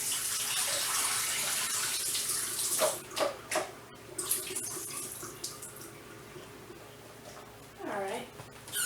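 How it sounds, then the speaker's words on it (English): Water splashes and gushes into a kitchen sink as it drains out of a pot of soaked broccoli. The pouring is loudest at first, then breaks into scattered splashes and drips, and a brief voice is heard near the end. "I'll go ahead and rinse my, not rinse, but drain the water out of my broccoli"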